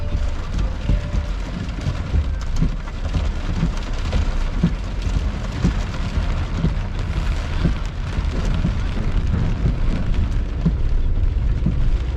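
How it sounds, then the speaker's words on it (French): Heavy rain pounds down in a steady, loud, dense roar during a summer thunderstorm on a tornado chase, with low rumbles of thunder rolling underneath throughout. "la pluie est froide"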